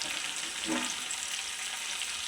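Garlic hits hot oil with sizzling mustard seeds and cumin while making palak paneer, giving a soft, steady, even hiss throughout with no talking.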